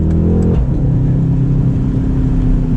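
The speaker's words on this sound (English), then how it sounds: "you got the turbocharged 4-liter V8, and it sounds amazing" A Mercedes C63 AMG convertible's hand-built turbocharged 4-liter V8, driven in manual mode with a 9-speed automatic, revs loudly up close, its note shifting early and then settling into a strong, steady engine roar.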